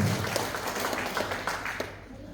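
Members of a church congregation clap during a worship service in Denpasar, a short burst of scattered applause with a voice faintly under it before it fades out.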